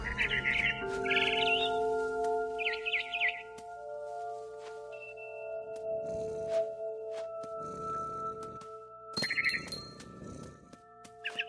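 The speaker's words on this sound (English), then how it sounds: "Then I heard chirping outside my window. It was a barn swallow going back to her nest." Barn swallow chirping in What Remains of Edith Finch, heard as short bursts of bright high chirps at the start, around three seconds and near nine seconds, set over sustained game music tones and low rumbling.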